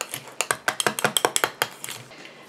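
Rapid, regular clinking strokes as conditioner ingredients, including Cosgard, are stirred in a container, a dozen or so close, crisp taps that slow and fade at the end.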